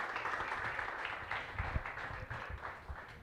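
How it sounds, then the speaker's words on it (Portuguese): A congregation applauds during a Portuguese-language thanksgiving church service, a soft, steady wash of many hands clapping, distant and low in level, continuing without pause. "Você aplaude ao Senhor bem forte, amém?"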